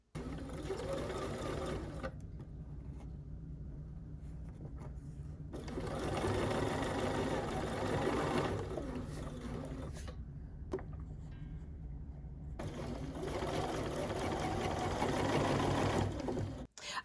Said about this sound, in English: let's have a look at sewing on the B570 with the 37D